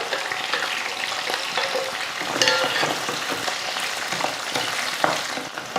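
Okra sautéing with small onions and garlic in a pan, a dense, loud sizzle with scattered scraping stirs and light clinks, continuous and close throughout.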